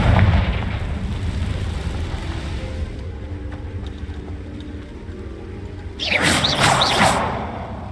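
A Confringo blasting spell explodes in the Hogwarts Legacy video game, a loud burst near six seconds rising out of a low rumbling game soundscape and ringing on briefly before fading.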